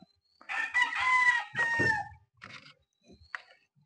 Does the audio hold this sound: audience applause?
no